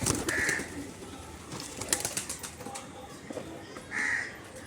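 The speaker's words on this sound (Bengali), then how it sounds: "দেখো পায়রাগুলো সব বেরাবে।" Pet pigeons coo softly and close by, two low rounded calls standing out against a faint rustling background.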